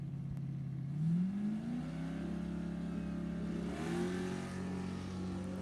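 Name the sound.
Ford drag race cars launching down the strip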